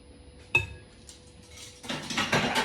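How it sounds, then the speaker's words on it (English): Spoon stirring shaggy English muffin dough with cold pressed sunflower oil in a bowl: one sharp clink against the bowl, then a soft, close scraping and mixing rustle that builds toward the end, with no talking. "Give that a stir through."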